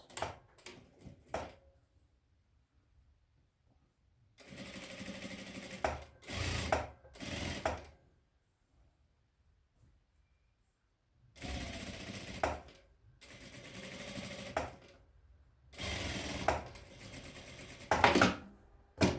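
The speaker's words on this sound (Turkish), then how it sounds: "payları pervaza doğru yatırarak çima dikişi yapıyoruz" Sewing machine topstitching a square collar facing, the seam allowances pressed toward the front facing; several short bursts of stitching separated by pauses, close and fairly quiet, with no talk.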